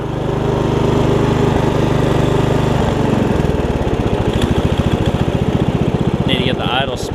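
A Yard Machines riding mower engine, recently flooded with water, idles close by with a steady drone, then settles into a lower, chugging beat of distinct regular firing pulses.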